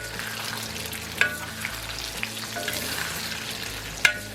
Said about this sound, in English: Love the way the eggs cook in the bacon fat. Excellent. Stir fry them around a little bit.